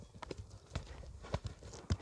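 A ridden horse clip-clops in a quick, uneven rhythm of hoof strikes on hard ground, fairly faint and close, with a few louder thuds.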